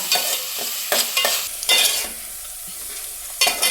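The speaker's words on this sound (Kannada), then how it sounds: "ಈರುಳ್ಳಿಯನ್ನು ಹಾಕಿದ ತಕ್ಷಣ ಸಿಮ್ಮಲ್ಲೇ ಇಟ್ಕೊಂಡು ಒಂದು ಸ್ವಲ್ಪ ಮಿಕ್ಸ್ ಮಾಡಿ" Onions stirred over low heat in a frying pan, a soft steady sizzle broken by several scraping strokes of the spatula, close and clear with no voices.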